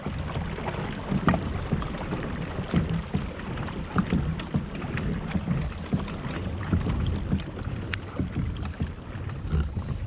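Paddle strokes and water wash around a Predator PDL fishing kayak turning hard on open water, heard up close under steady wind buffeting the microphone, with no talk.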